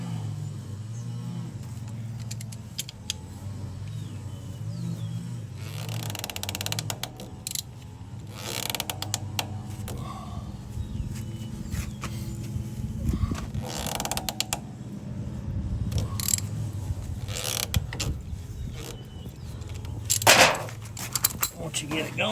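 A strap-style oil filter wrench grips and loosens the oil filter on a Bad Boy zero turn mower, giving repeated creaking, ratcheting strains in bursts. The metal squeaks sound close and moderately loud.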